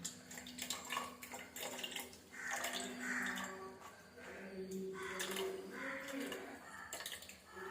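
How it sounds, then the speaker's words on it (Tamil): Water splashes and trickles in uneven bursts as grated beetroot is squeezed by hand in water in a bowl, fairly close. "நல்லா தண்ணி ஊற்றி இந்த சாறு எல்லாம் நல்லா புழிஞ்சி எடுத்துருவோம்."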